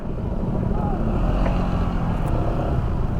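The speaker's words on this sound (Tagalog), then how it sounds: "River crossing" A motorcycle fords a river on the Kaytitinga–Magallanes road near Tagaytay, its engine a steady, close rumble that continues without a break, with wind buffeting the microphone and faint voices underneath.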